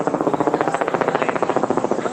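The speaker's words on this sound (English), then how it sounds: "No, that's a helicopter." A helicopter passes overhead, its rotor producing a steady, rapid rhythmic chopping that holds at a moderate level throughout, with no talking.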